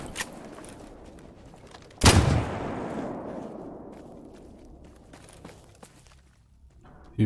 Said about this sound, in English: he was definitely shooting at me